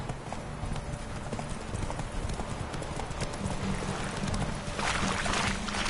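Roach, Geralt's horse in The Witcher 3, gallops in a steady, fast clip-clop of hooves, loud and close over continuous game ambience and music for the whole stretch.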